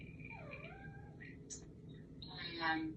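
A domestic cat meows several times indoors, with rising and falling cries, fairly faint over a low room hum and without talk.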